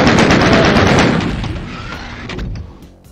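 Minigun fire in classic Doom on Knee Deep in the Dead, a dense rapid burst of shots that stays loud and continuous, then thins and tails off near the end.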